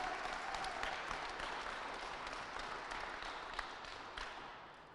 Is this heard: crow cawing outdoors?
no